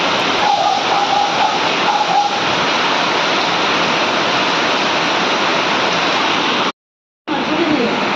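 Torrential rain beats down hard in a constant, loud wash of noise, broken only by a brief silent gap near the end.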